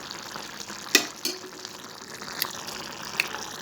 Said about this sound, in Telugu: సో ఒక 10 మినిట్స్ చిన్న మంట పైన మగ్గనిద్దాం.